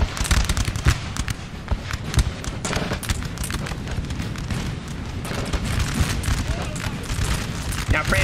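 Rapid, continuous crackle of massed British musket volleys in Napoleon: Total War, a dense fusillade of overlapping shots rolling on without pause across the whole stretch, loud and steady.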